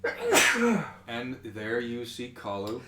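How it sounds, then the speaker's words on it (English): A person sneezes sharply and loudly once near the start, a burst of breathy noise, followed by someone speaking. "thing caught in one of my nose hairs and it's triggering the sneezes"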